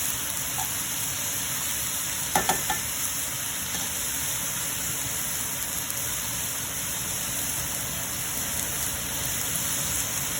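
Vegetables cook in a pan, giving a steady close sizzle that runs throughout, with a brief clink of a utensil near the start.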